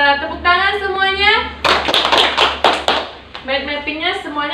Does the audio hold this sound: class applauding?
yes